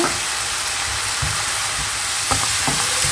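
Mushrooms and onion sizzle steadily in a hot pan, with a constant crackling hiss and a few soft scraping stirs.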